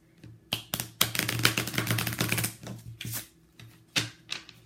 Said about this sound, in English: It's so weird to shuffle playing cards after tarot cards.